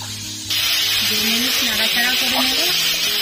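Pineapple pieces drop into hot oil tempered with fennel seeds and cinnamon, setting off a loud, steady sizzle that jumps up suddenly and holds, with a voice talking over it.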